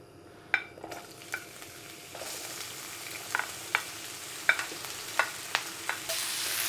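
Onions and carrots frying in rapeseed oil give a soft, steady sizzle, broken by a string of sharp utensil clicks and scrapes against the pan at irregular intervals, close by and without voices.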